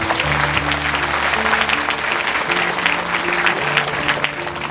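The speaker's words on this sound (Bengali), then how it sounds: "ঈশ্বরের জন্য এটি জোরে করতালি" A congregation claps loudly and steadily at a Christmas church program, dense applause holding at full strength throughout with a sustained musical tone underneath.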